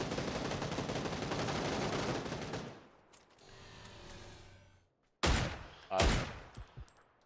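Gunfire in PUBG on console: a long dense burst of automatic fire for about three seconds, then quieter distant shots and rumble, and two sharp loud single gunshots near the end.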